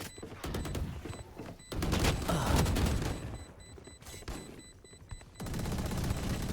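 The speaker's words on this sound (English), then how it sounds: "Sojin just headshot with the Sheriff." Rapid gunfire bursts in a Valorant match, including Sheriff pistol shots, crackling in dense volleys with brief gaps between them, moderately loud and without talk.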